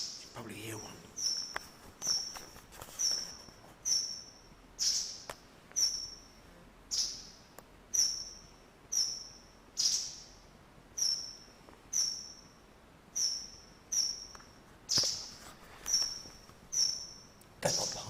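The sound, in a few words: birds flying inside an exhibition hall in Iceland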